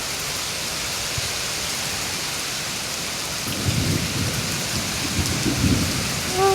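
Steady heavy rain hisses on surfaces while low thunder rolls and rumbles in the second half, with no one speaking.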